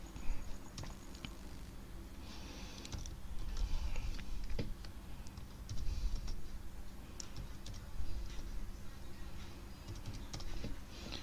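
Quiet, steady typing on a computer keyboard in a computer lab, with irregular clusters of soft key clicks and occasional louder taps continuing for several seconds with no talk.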